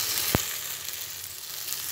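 Batter-dipped breakfast pieces frying in a pan, a steady close sizzle throughout with one sharp knock near the start, no talking.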